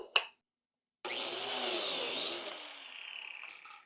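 A biscuit joiner plunges into a wooden board from a single board project, cutting a slot: a short click, a pause, then a loud steady whirring cut lasting a couple of seconds before winding down.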